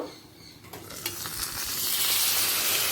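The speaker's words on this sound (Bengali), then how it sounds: "ভাজতে ভাজতে সেদ্ধটা করে নেব" Potato and pointed gourd pieces frying in a pan, with a few clinks of stirring before a bright, steady hiss of sizzling builds up and holds, close and with no talk.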